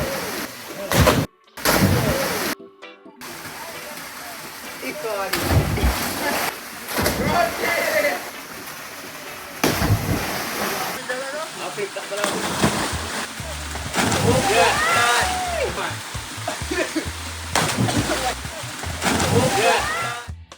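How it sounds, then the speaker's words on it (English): People dive and splash into the pool beneath Joy Falls in St. Thomas, Jamaica, with repeated loud splashes and sloshing water between bursts of voices talking and cheering nearby. "Of course, we had to get in on the action with some epic water dives."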